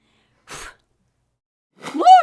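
A voice imitates a single sneeze in a children's story reading: a short breathy puff, a quiet pause, then a loud voiced sneeze close up.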